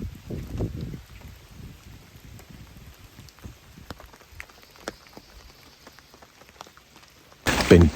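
Heavy rain falls in South West Western Australia, a steady close patter of drops on surfaces with a low rumble at first and a sudden loud burst at the very end.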